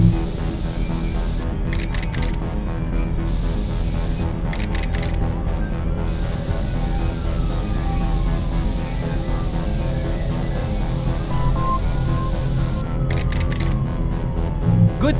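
Spray paint can hissing in The Warriors video game, three separate bursts of spraying over a constant background hum, each lasting a second or two, with some mechanical clicking in between.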